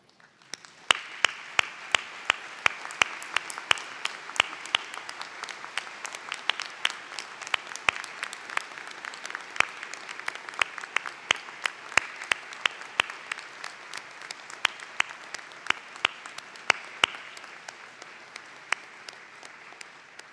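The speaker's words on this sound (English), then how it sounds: "I would ask our guests please to rise and offer a round of our applause to" Guests at a nursing school commencement ceremony give a long, sustained round of applause for graduates, dense crowd clapping with sharp individual claps standing out throughout, no voices over it.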